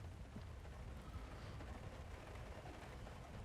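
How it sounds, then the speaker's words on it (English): Acid rain pours down in a Lego Star Wars: The Force Awakens game scene, a dense, steady hiss of falling drops with a low rumble beneath, continuous and fairly quiet throughout. "Acid rain!"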